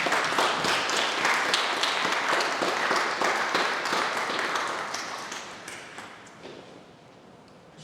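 Applause from a church congregation at a baptism service, dense continuous clapping that fills the room and gradually fades toward the end.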